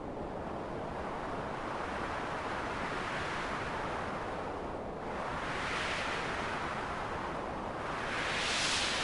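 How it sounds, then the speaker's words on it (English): Synthesized wind made from a white noise frequency sweep, a steady loud hiss that slowly rises and falls in pitch like gusts, continuous and alone. "you can hear that we basically already have some kind of a wind sound"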